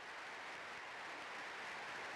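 A large crowd at the United Nations in New York in 1960 applauds the American president continuously, a dense wash of clapping at an even level, heard from a distance.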